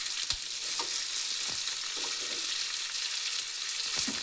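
Tomato frying in a pan with onions and chilli gives a steady close sizzle under a few light stirring scrapes, with no talk.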